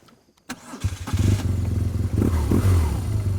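A BMW GSA motorcycle engine catches and settles into a steady running idle on a soft grass hill, loud and close after a brief quiet start.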